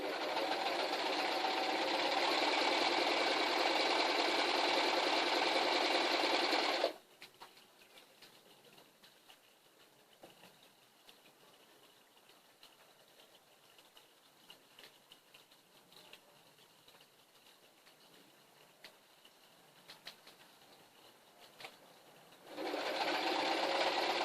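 A sewing machine stitches debris netting in a loud, rapid, steady hum at the start, falls quiet for a long stretch with faint handling noises, then starts running again at the end.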